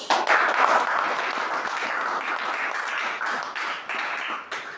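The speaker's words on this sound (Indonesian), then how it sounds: "kita kasih dulu penghargaan buat kelompok 1 dengan memberikan aplaus" A classroom of students claps for a presenting group, dense steady applause that fills the space loudly from start to finish.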